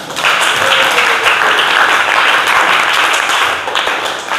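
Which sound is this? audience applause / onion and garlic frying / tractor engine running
audience applause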